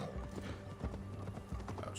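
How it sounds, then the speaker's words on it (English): Horses clip-clopping in the Assassin's Creed Valhalla video game, a steady run of hoof beats with a brief whinny, heard faintly under game ambience. "Hey look, the horses are still here."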